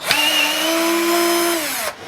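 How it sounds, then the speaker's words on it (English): A WORX Switchdriver cordless drill drives a screw in one steady, loud whine lasting about two seconds before it cuts off abruptly, with no voices. "it doesn't work the best because there it kept drilling in, driving it in"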